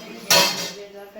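Metal dishes and cutlery clatter in a household kitchen while they are scrubbed, a single loud clash followed by a fading rattle, close and alone.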